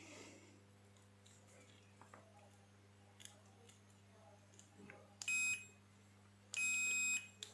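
A multimeter continuity beep while testing a new push-button power switch from a Pioneer car MP3 player, with two short, sharp electronic tones late in the clip over a quiet mains hum and faint handling noises.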